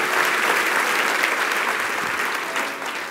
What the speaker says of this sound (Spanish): te damos el mejor aplauso de toda nuestra vida